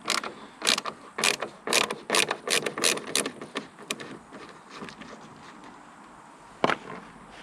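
A hand ratchet clicks close up as it loosens the headlight mounting bolts on a Ford Mondeo MK4. The quick, even clicks come in bursts, followed by quieter fiddling and one sharp clack near the end.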